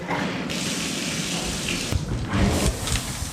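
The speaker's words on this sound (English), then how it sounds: "So I get my shower warming and feed Haley." Shower water runs steadily in a home bathroom while warming up, a continuous broadband rush with a few soft thumps and splashes, close and fairly loud with no talking.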